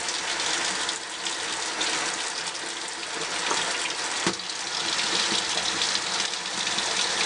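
Water from a faucet runs steadily into a sink while a makeup brush is rinsed and squeezed out, a continuous close splashing rush with a brief louder splash partway through.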